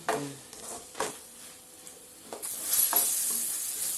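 Chopped capsicum fries in a pan with a soft crackle, a few clinks of a stirring utensil at first, then a louder steady sizzle swells and holds as the pieces hit the hot oil.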